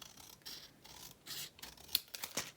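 Scissors trimming a small overhang of paper on a Christmas pocket craft: a few quiet, close snips and slicing strokes with light rubbing between cuts.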